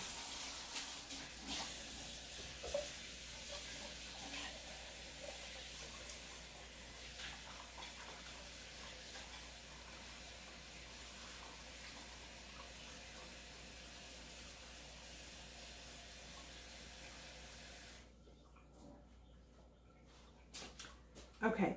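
A kitchen tap runs steadily into a container as water is drawn for proofing yeast, a faint continuous hiss-like flow lasting about eighteen seconds before cutting off, followed by a couple of small knocks.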